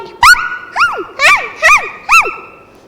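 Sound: voice imitating a dog barking in a told story

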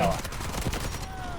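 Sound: AKM rifle gunfire in video game Delta Force

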